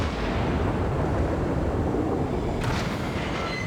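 Heavy naval gunfire and shell impacts from a warship video game, a dense continuous rumbling barrage of booms with a sharper crackling burst near the end, loud and close with no talk.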